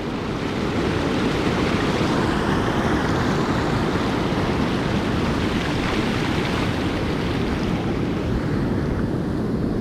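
Ocean surf breaks continuously on an Oregon beach in January, a dense, loud wash of roaring water and wind without pause.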